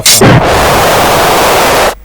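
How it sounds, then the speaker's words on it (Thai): A skill sound effect fires in the video game Lost Saga: a sharp blast followed by a loud, sustained noisy roar that cuts off abruptly after about two seconds. "อันที่สามคือเสียงสองสกิลนี้จะดังขึ้นมากนะฮะ"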